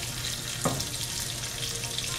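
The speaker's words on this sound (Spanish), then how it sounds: "vamos a agregar una taza de agua y el caldo de pollo en polvo" A cup of water poured into a hot pan of boscaiola spaghetti sauce with chicken bouillon, giving a steady hiss and sizzle with a brief splash near the start.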